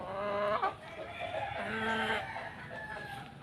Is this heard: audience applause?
no